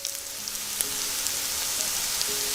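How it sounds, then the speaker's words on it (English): Grated potato pancakes fry in a pan over medium heat, a loud, even sizzle close up with scattered small pops and crackles throughout and no talking. "Leave on medium heat until brown and crispy."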